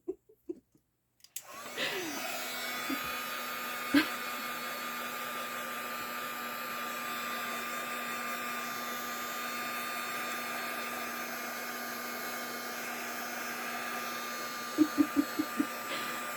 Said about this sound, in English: So I'm gonna go ahead and try to dry this real quick.